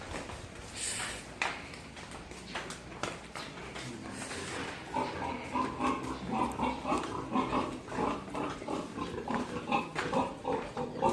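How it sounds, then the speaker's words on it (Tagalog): Sow on a farm grunting and snuffling up close, rhythmic repeated grunts growing busier in the second half, with some clattering around her. "Ayan nga pala mga idol ating Mama Pig at nariyan na tayo"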